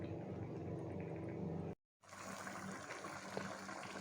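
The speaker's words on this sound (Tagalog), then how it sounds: "Tapos lalagyan natin ng konting tubig." Water poured into a pot of simmering squash with shrimp, a continuous splashing gush near the mic, broken by a brief silent gap before pouring resumes.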